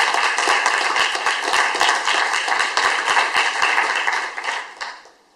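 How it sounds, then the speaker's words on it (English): Applause from a summit audience of students and education officials in Queensland, crisp individual claps close by within a steady wash that fades out at the end. "So please give a big round of applause."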